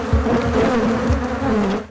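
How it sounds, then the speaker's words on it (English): Loud, continuous buzzing from a mass of bees, a thick humming drone close by that holds steady throughout. "The sky's black with bees buzzing around."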